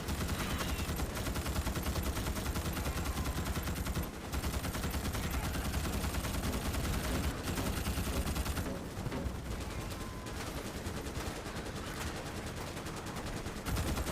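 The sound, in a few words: gunfire from the video game Starship Troopers Extermination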